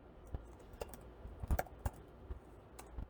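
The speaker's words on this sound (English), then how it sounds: "Didn't even have to finish typing it in." Quick, irregular clicks of keys on a Surface Pro 5 laptop keyboard, heard close but quiet, in short bursts with small pauses and no talking.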